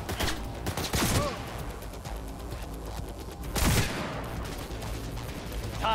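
Heavy Widow Maker fire in the video game Cyberpunk's Night City, with two loud, dense bursts of shots about two and a half seconds apart over a constant roar of game noise.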